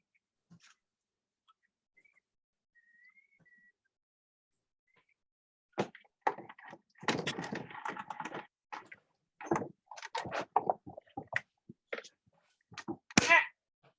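A hand-cranked die-cutting machine pressing a die through paper for a pop-up card, giving a run of irregular cracks, thumps and creaks close by after several seconds of near silence.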